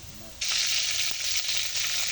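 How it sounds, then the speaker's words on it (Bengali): Onion fried with dal and spices hits hot oil for vegetable khichuri, a sudden loud sizzle that bursts in after a quiet moment and keeps crackling steadily to the end. "এখন আমরা এটাকে তেলে দেব"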